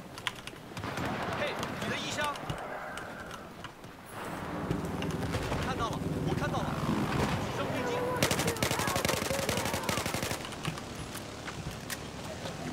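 Battlefield 4 gameplay gunfire, with dense bursts of automatic shots and rapid clicking impacts filling the scene, growing busier and louder in the second half as a voice talks over the action.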